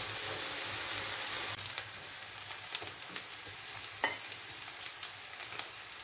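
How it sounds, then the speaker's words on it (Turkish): Mushrooms frying in a pan, a dense steady sizzle that drops somewhat quieter partway through, with occasional soft clinks and stirring sounds close by. "Mantarlarım da kızardı."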